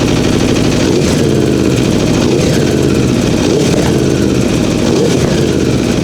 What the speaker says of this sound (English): start the bike up, let it run for a minute or two, and give it a few slight revs